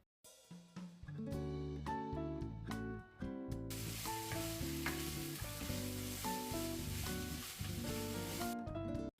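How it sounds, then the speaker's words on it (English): Beef and fennel sauté in a pan for a prime rib stir fry, a bright hissing sizzle that swells midway and runs on beneath loud, prominent background music, with no voices. "After sautéing the beef and the fennel together for around 1 minute"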